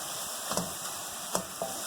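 Chicken with dry spices stirred in a hot pan: a constant sizzle with a few soft scraping taps of the spoon against the metal.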